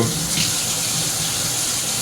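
Kitchen tap water running steadily into a sink while saltfish is cleaned for a Jamaican ackee and saltfish meal, a continuous close hiss with no talk.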